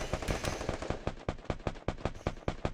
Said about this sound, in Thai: กำลังยิงกันอยู่เลยครับ